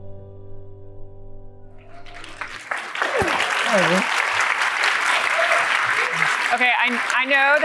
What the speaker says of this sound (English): I know that this applause is not for me